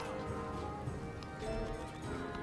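Cavalry hooves clop in Civilization VII, a muffled, continuous trotting patter with a faint whinny beneath the game's tonal music.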